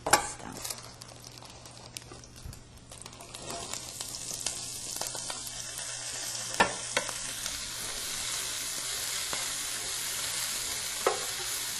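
Bean sprouts stir-fried in a pan give off a bright, steady sizzle, with a few sharp scrapes and clanks of the utensil early on. The frying then settles into a constant hiss.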